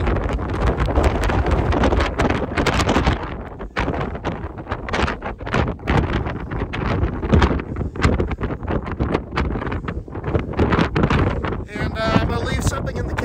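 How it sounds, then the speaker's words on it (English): Strong wind roars across the summit of White Butte in North Dakota, a loud, continuous buffeting with gusts that rise and fall close to the microphone for the whole stretch. "It's very windy."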